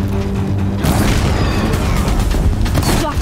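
Heavy weapon fire slams a bridge in Horizon Zero Dawn, a loud booming impact followed by a sustained rumbling, crackling roar of mechanical destruction.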